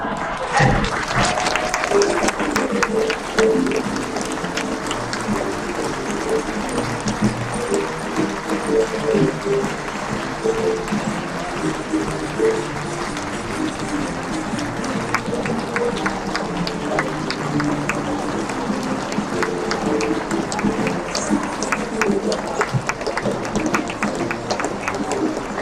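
An audience at a high school play gives sustained applause, a dense, steady wash of many hands clapping that carries on for about half a minute, with scattered voices in the crowd.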